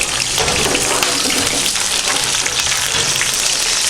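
Strips of food hit hot oil and fry with a loud, dense, close sizzle and crackle that stays constant throughout.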